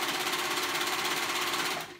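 A sewing machine runs steadily, stitching a hoodie seam in an even, continuous close whir that stops abruptly near the end.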